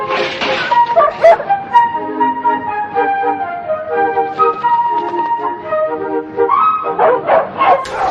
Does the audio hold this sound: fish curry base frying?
no